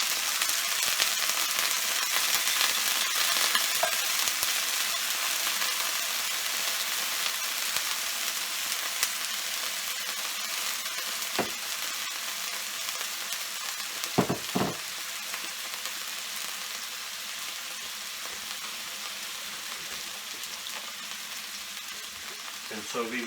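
Marinated cod fillet pieces fry in a pan over medium heat, with a steady, bright crackling sizzle throughout and a couple of brief knocks of a utensil against the pan.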